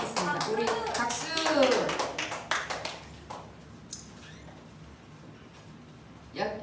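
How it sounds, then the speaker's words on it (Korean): A burst of clapping from a group at a children's church service, brisk and lively at first, then thinning out as a voice talks over it in Korean. "우리 박수!"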